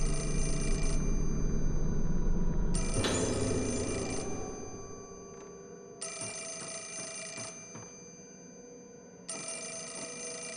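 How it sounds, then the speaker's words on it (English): Telephone rings in the horror video game Fatal Frame 4, sounding in bursts of a bright electronic ring with gaps between, loud and close over a low game ambience with no talking. "Can't answer the phone if I don't know where it is."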